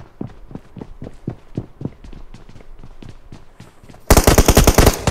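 Rapid automatic gunfire from PUBG Mobile rattles in repeated bursts of evenly spaced shots, ending in a sudden, much louder, denser volley at close range.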